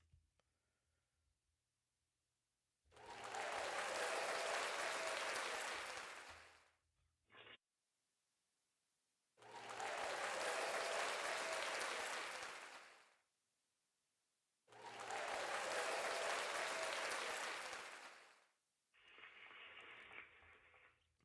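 Three long bursts of applause-like noise, each lasting about four seconds, separated by near-silent gaps, then a shorter, quieter burst at the end, heard during a live sports talk show.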